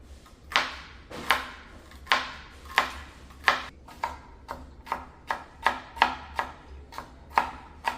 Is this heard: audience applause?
no